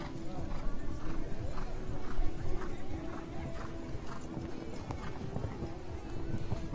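Horse hooves clip-clop in a steady rhythm on the course at a show jumping event, the Burlington Tack 'N Togs Cup, heard under an announcer's commentary.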